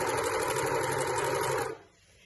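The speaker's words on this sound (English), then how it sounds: "when I'm overlocking, I'm just kind of taking my time to check that there's nothing caught up underneath" Overlocker sewing the raw edges of a dress, a fast steady whirring stitch at close range that runs for under two seconds and then stops.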